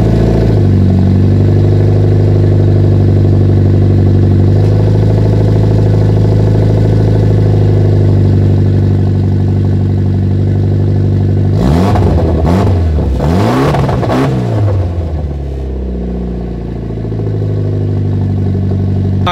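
A Mitsubishi Evo engine cold-starts and settles into a loud, steady idle, then is blipped through several sharp revs that climb and fall before dropping back to idle, close up with no talking.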